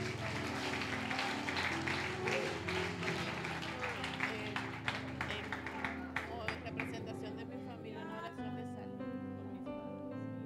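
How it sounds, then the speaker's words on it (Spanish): Church congregation applauding after a prayer at a sermon, clapping and crowd noise under music and a voice, tapering off toward the end. "Alguien dele un aplauso a Dios por ella."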